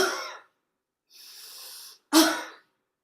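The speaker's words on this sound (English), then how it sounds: "you inhale through your nostrils and start coughing" Deliberate coughs done as a lung-clearing exercise: a sharp cough, then a long hissing inhalation through the nose, then another strong cough, loud and close with no talking.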